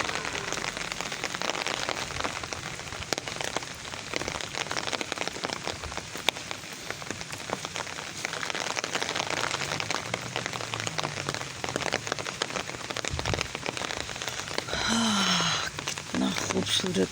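Heavy rain pours down steadily in a continuous dense hiss of drops striking surfaces, loud and unbroken throughout.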